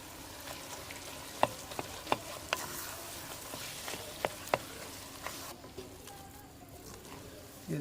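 Potatoes frying in spiced masala for an Arabic samosa filling, a soft continuous sizzle broken by several sharp clicks of a stirring spoon against the pan, fairly quiet and close.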